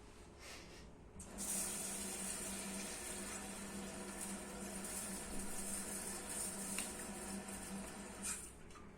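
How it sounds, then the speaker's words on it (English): Tap water running into a cooking pan in a home kitchen, a steady hissing gush that starts after a second, continues evenly for several seconds, then cuts off near the end. "fill the pan up with some water"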